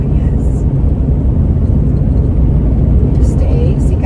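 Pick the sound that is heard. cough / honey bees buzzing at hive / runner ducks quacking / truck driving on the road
truck driving on the road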